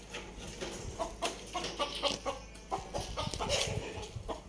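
A rooster clucks in a rapid run of short, faint calls amid quiet background noise.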